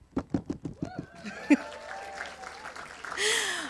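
An audience welcomes the evening's host, a poet and producer, at a university Black History Month address: a few sharp, separate claps grow into fuller applause with a voice or whoop in the middle and a louder burst at the end.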